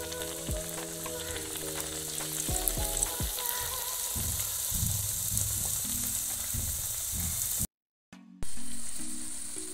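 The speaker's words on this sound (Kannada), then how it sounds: "ನೆಕ್ಸ್ಟ್ ಫ್ರೈ ಮಾಡ್ಲಿಕ್ಕೆ ಹಾಕ್ತಿದ್ದೇನೆ." Sanjeera, a sweet Indian pastry, deep-frying in hot oil with a steady, loud sizzle and bubbling, interrupted briefly by a short dropout before the frying noise returns.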